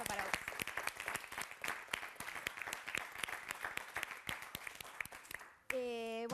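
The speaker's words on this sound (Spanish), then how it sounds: "Así que este aplauso para vos" A studio audience on a television program claps in tribute, a steady patter of many hands throughout, ending abruptly as a musical tone cuts in.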